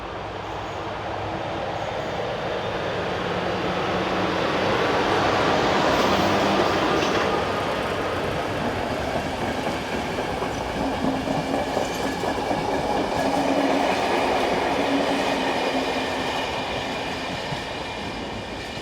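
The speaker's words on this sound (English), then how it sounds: "Departing the station at Błowice is the 1004 service from Plzeň, with number 267 in charge." Passenger train hauled by locomotive 267 departs Błowice station on the 1004 service from Plzeň, a steady rumble and clatter of wheels over rail joints swelling to a peak midway and easing off, with no voices.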